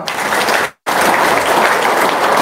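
Audience applause at a seminar on a grocery trader's business, a loud, dense burst of clapping that cuts out for a split second and then resumes just as full.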